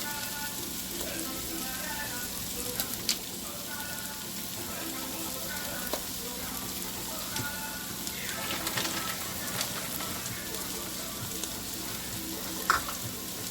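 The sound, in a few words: beef broth added to sizzling pot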